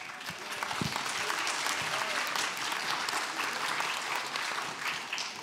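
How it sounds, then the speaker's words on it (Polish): An audience at a school talent show gives sustained, dense applause after a performance. It stays full and even throughout, with a few brief voices under the clapping. "Wielkie brawa."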